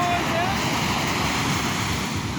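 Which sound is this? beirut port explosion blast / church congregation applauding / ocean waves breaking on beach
ocean waves breaking on beach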